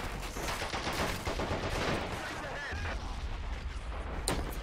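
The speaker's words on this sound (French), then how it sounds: "on a une petite mitrailleuse par là" Machine gun fire crackles continuously across a battlefield in the WWII strategy game Men of War Assault Squad 2, dense bursts blending with distant artillery-like booms under steady game noise, with someone talking over it.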